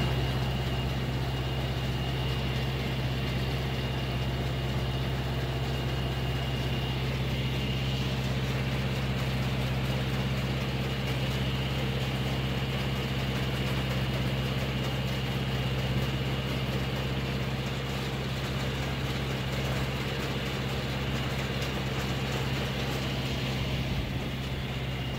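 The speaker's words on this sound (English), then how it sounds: "Has an old Wisconsin twin cylinder air cooled engine on it." An old Wisconsin twin-cylinder air-cooled engine mounted on a New Holland Hayliner 68 square baler, idling in a steady, even drone from close by that holds unchanged for a long stretch, with no talk.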